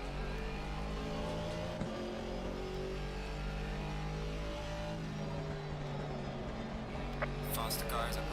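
A GT4 race car's engine hums and drones steadily in Assetto Corsa Competizione at the Kyalami circuit during an endurance race, with shifting engine tones and a passing car in the background.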